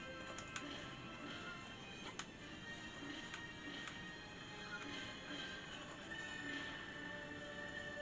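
A train rumbles and clatters in the video game Princess Peach Showtime!, a faint continuous rolling with a few sharp clanks and a rising squeal near the end.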